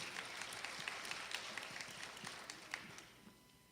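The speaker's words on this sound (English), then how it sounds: "Again, y'all can clap for her." A pageant audience applauds a young poet, a faint, distant patter of many hands that thins out and trails off toward the end.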